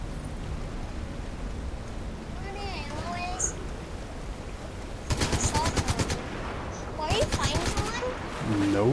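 Rapid bursts of video game gunfire, two loud stretches of fast automatic shots in the second half over steady background game noise, with chirpy electronic sounds earlier.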